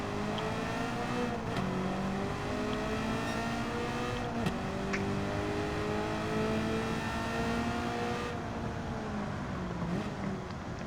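A World Touring Cars race car in Gran Turismo 7 laps Watkins Glen. Its engine drones loudly and steadily, with pitch that rises and falls through gear changes as it eases through a corner and accelerates again.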